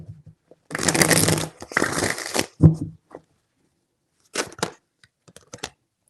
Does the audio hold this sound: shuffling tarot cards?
yes